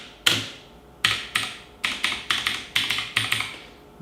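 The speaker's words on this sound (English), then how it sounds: "Even though it's really clicky and it's really tactile, you don't hear the echo from the keyboard." Keys on a MARVO KG934 TKL mechanical keyboard with clicky, tactile switches are pressed close up, giving sharp individual clacks and then quicker clusters of strokes, with no voices.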